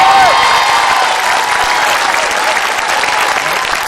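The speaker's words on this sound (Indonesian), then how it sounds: "Boleh berikan tepuk tangan untuk sinergi yang baik." Loud, dense applause from a large audience at a televised military anniversary show, with crowd noise and some cheering, sustained and even throughout.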